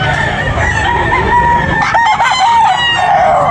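A young stag rooster for sale at a chicken market in Tabunok, Talisay crows loudly and close, then gives a few clucks, with no talk over it.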